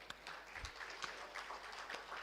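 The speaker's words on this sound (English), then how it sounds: "Let's keep the claps rolling, keep the claps rolling." Audience applause fills a startup conference hall, steady clapping from a crowd of delegates at fairly even level throughout, with a few sharper claps standing out near the front.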